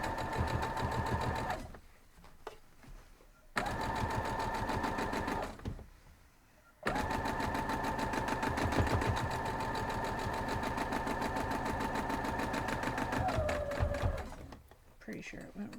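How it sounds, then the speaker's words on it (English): A sewing machine stitches quilt block pieces in long steady runs of rapid, even needle chatter, pausing twice briefly, close up, with a voice talking over parts of it. "So let's sew these two up."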